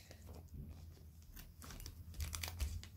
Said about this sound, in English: I'll just tear it open.